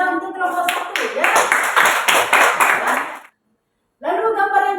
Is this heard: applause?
yes